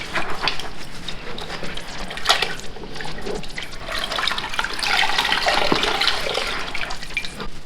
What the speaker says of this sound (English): we'll take them to a sink and rinse them out in the sink using the same temperature water